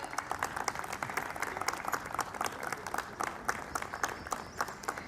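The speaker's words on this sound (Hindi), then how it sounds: "जितनी जोर की तालियां बज रही हैं" Guests at a retirement party applaud in a hall: many hands clap in a rapid, crackling patter that sounds somewhat distant and soft, steady over several seconds with no talking.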